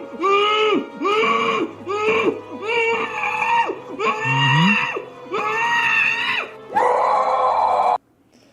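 A person imitating the Yoda scream, producing a series of strained, pitched-up vocal shrieks in several bursts with short gaps, loud and close, ending in one longer, harsher cry.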